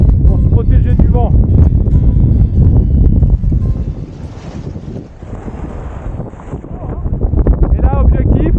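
Strong wind gusts buffeting the microphone on an exposed trail in Morocco's Atlas mountains, loud and roaring throughout and easing briefly midway, with voices talking over it.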